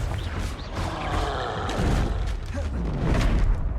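Explosive blasting spells in a Wizarding World video game, a series of dull booms and thuds layered over dense game noise, fairly loud and continuous with swelling bursts.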